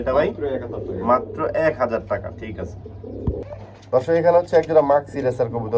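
A caged male pigeon coos low and repeatedly beneath someone talking steadily throughout.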